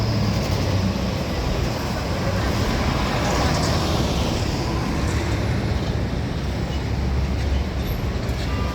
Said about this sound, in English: Traffic is moving steadily.